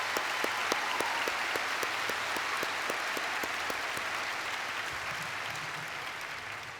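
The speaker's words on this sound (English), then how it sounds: "How about a round of applause for all the folks?" Audience applause at a university welcome kickoff event, a steady wash of many hands clapping with some sharper individual claps standing out early, sustained and gradually fading toward the end with no talk over it.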